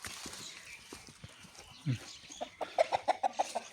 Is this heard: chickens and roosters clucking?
yes